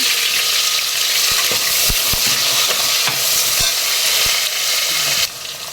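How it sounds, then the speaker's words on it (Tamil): Onions sizzle loudly in hot oil with whole spices in a pan, with a steady frying hiss and several sharp clicks of a spoon stirring against the pan, the sizzle dropping slightly near the end. "வெங்காயம் பெருசாக ரெண்டு கட் பண்ணி வச்சுருக்கிறேன் அதை போட்டுக்கலாம்"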